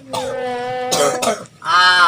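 Several harsh, throaty coughs come in quick bursts, close and fairly loud, with a strained, voiced quality and a short pause before the last one.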